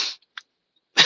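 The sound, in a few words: voice imitating a man coughing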